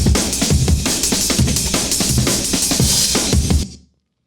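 A fast, busy breakbeat time-stretched to 170 BPM, with punchy kicks and dense crashing cymbals, played loud for a few seconds before cutting off into silence.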